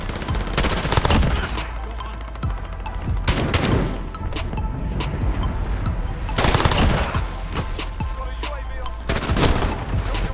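Assault rifle fire in Modern Warfare, with loud, rapid automatic bursts of sharp shots crackling almost continuously and swelling in dense waves, close up, with a faint voice now and then underneath.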